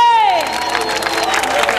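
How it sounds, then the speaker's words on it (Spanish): A concert crowd claps and cheers loudly after a short tone fades away. The applause is dense and continuous, with shouts mixed in. "para que pida un aplauso bien fuerte"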